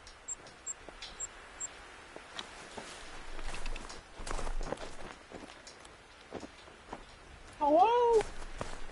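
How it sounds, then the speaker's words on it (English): A cat meows in the hunting video game The Hunter: Call of the Wild on PS5, a short rising call near the end, after soft footstep-like taps and background game ambience. "Did you hear that cat say hello?"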